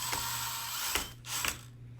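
A power drill whirs steadily with a high mechanical whine, briefly pausing and restarting as it drives a screw into a chicken cage during assembly, close by.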